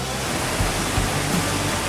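Cartoon sound effect of a huge rushing water wave, a seaquake-powered surge in a racing cartoon: a steady, loud, full roar of crashing water throughout the short moment, with low rumbling swells and no talk.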